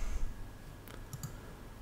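A computer mouse clicking while working in Revit design software, two or three faint, sharp clicks close together over quiet room tone.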